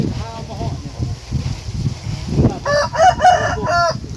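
A white rooster crows in a farmyard setting, its drawn-out harmonic call rising clearly over the last second and a half, loud and close, following a stretch of low rumbling background noise and faint voices.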